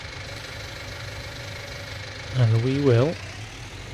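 A Claas Arion tractor engine idles in Farming Simulator 19, a steady low rumble running throughout while someone speaks briefly over it midway.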